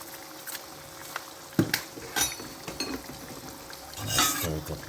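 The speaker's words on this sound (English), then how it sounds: "Let's stir it up" Pak choi being stirred in a cooking pan for breakfast, with scattered clinks and scrapes of a utensil against the pan and a soft sizzle underneath, irregular and close.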